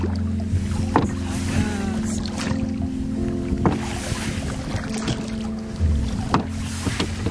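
Oars work a small sailboat through calm water at an anchorage, with a few soft knocks and splashes at intervals over steady water and light wind noise, close to the microphone.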